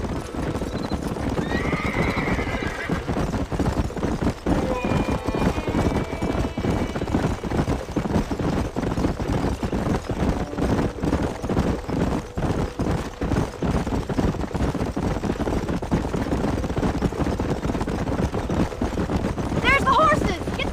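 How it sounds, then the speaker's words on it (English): Horses' hooves clip-clop steadily in the Western game Red Dead Redemption, a continuous rhythmic patter with occasional whinnies, wind and background voices mixed in. "There's the horses!"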